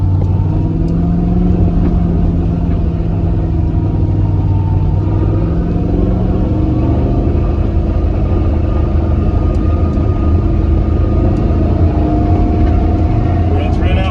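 A V8-swapped Volvo engine holds steady, loud revs around 3,500 rpm without any gear change, a continuous droning rumble with slowly wavering pitch throughout.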